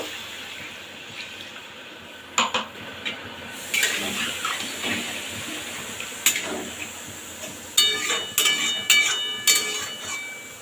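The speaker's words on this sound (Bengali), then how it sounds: "আর একটু জল দেবো" Water goes into a pan of hilsa dopiaza curry, with splashy pours and several sharp bursts and clinks of kitchen handling, close by and without speech.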